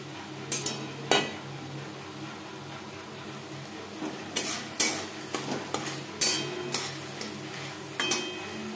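Shrimp stirred with dry-roasted ground cumin, coriander, pepper, dried chilli and bay leaf in a pan for Bengali lau chingri, irregular scraping clinks of a spatula against metal over a soft sizzle, in separated bursts.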